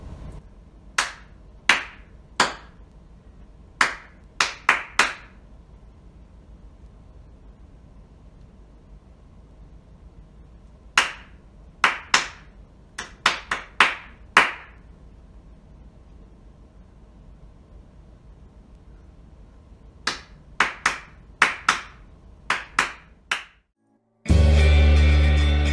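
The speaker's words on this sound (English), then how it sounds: "I will clap a rhythm, 2 measures, 4 beats each" Hand claps sounding alone in two short bursts of eight beats each, a rhythm of two four-beat measures with a pause between groups, followed by a third similar burst and a sudden loud noise at the end.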